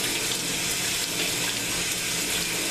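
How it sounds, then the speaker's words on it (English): Cold tap water runs steadily into a sink while tie-dyed fabric bound with rubber bands is rinsed, a continuous close, full splashing rush with no pauses. "I'm rinsing it out with cold water."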